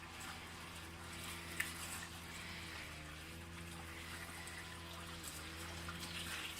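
Water trickles steadily from a can onto the base of plants at an allotment kitchen garden in July, a soft continuous pour and patter, faint and even throughout.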